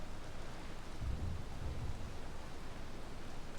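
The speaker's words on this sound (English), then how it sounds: "Came up out of nowhere this storm, didn't it?" A steady wash of rain and a low rumble of thunder rise in a thunderstorm in the video game Valheim, dense and continuous with no voices.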